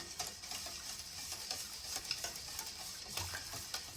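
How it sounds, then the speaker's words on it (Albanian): Baklava dough mixture, with 220 ml of oil just added, is stirred in a bowl, giving soft, steady wet scraping and sloshing sounds, close and alone without talk. "Tash ja shtojna 220 ml me vaj. Përzina përsëri masën mirë."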